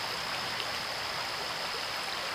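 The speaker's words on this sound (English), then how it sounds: "Just dip it in a bit of water, and it expands apparently." Compressed camping towel dipped into water outdoors, a steady rushing, trickling water sound that continues unbroken throughout, no voices.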